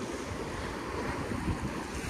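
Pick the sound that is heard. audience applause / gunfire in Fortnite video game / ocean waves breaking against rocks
ocean waves breaking against rocks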